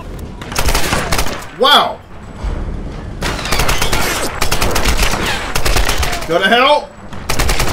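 Bursts of rapid gunfire from Tomb Raider, loud and close, with automatic volleys that stop and start again, mixed with excited talk and whooshing effects.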